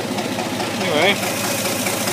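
A 1964 GMC truck engine idling steadily after a cold start, a continuous mid-pitched mechanical rumble heard up close, with someone speaking briefly over it.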